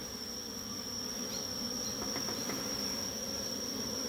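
Honey bees swarm around their hives and brood combs, giving a faint, steady buzzing drone that is joined by a constant high-pitched insect whine, with no talking.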